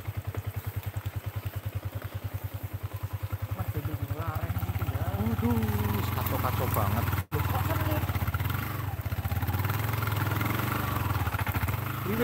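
A motorcycle engine runs steadily in a forest, a loud continuous idle with a rhythmic low putter and some clatter that swells slightly midway, with a brief dropout.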